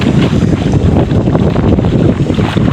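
A fishing boat engine runs out at sea, a loud continuous low rumble mixed with heavy wind buffeting and water noise, with no talk.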